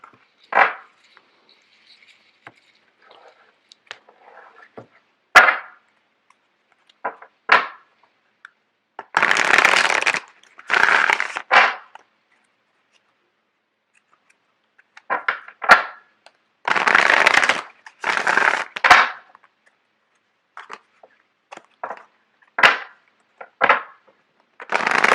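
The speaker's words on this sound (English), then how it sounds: "Just give me a second while I get the cards shuffled out." Tarot cards shuffled by hand for a love reading, giving repeated bursts of riffling and flicking, some short and some longer, close and fairly loud, with quiet gaps between them and no talk.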